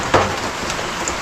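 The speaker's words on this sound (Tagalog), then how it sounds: "Hindi na magluluto si Kuya Ege mga karabas dahil walang tigil ang ulan" Steady rain falling outside, a continuous soft hiss of drops close by with a faint patter, no voices.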